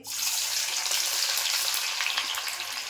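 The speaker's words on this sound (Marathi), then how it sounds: "आता तेल तापलं आहे आता कांदा ना तळून घेते" Onions frying in hot oil for a vegetable biryani give a loud, steady, continuous sizzle that holds for the whole stretch, close up, with no voices.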